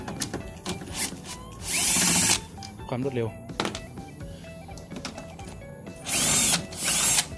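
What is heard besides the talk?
electric drill tightening with socket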